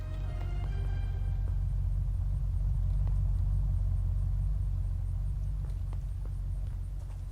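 A car drives past in the video game Unturned, a faint, low, steady rumble that carries on with no speech.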